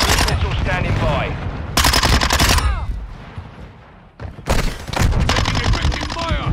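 Automatic gunfire in Call of Duty Modern Warfare 2 on the Santa Barbara Crossing map, with loud rapid bursts in two long stretches, a quieter gap with scattered shots and game voice callouts in between.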